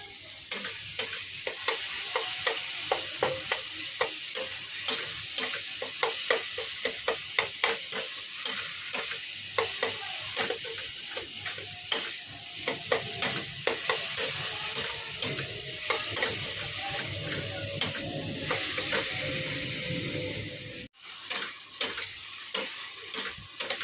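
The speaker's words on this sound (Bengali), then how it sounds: "ভালো করে মশলাটা কষিয়ে নিচ্ছি" Spice paste is stirred and fried in a pan, keeping up a steady sizzle with repeated scraping strokes of the spoon at a close, even rhythm, and a brief cut near the end.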